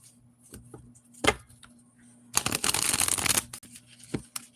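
A deck of cards is shuffled close up, a few soft riffles followed by a loud continuous flurry of snapping cards over a low steady hum.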